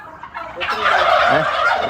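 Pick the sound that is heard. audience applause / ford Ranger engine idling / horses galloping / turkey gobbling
turkey gobbling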